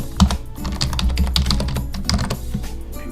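Rapid keystrokes on a computer keyboard as a new password is entered in a device's settings, a steady close run of clicks with no talking.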